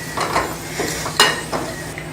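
Cashews and raisins fry in ghee in a pan, a soft steady sizzle with a few sharp scraping stirs of a spoon against the metal, close and fairly quiet, no voices.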